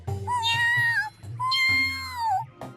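The anime character Serval gives two drawn-out, clear cat-like meows, each rising and then sliding down, close and loud, followed by a short third sound at the end.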